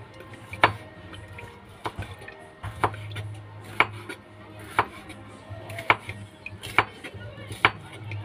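Knife chopping bitter gourd (ampalaya) on a board in a home kitchen, sharp evenly spaced cuts about one per second over a low steady hum.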